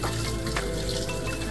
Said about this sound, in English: just rinse, fresh water, make sure it's nice and clean.